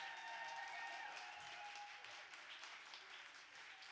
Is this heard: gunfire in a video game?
no